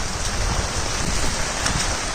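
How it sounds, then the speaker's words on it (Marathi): Heavy rain pours steadily onto a flooded street, a dense, close wash of hiss with no pauses from start to finish. "फुल रस्ता, फुल पाऊस."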